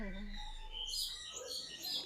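Faint parrot calls, a few thin high chirps and whistled notes against quiet background noise, fairly distant, in a nature park.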